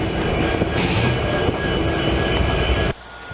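A freight train rolls through a rail yard, a steady, loud rumble of wheels and cars with faint squeals, continuing closely before dropping off abruptly near the end.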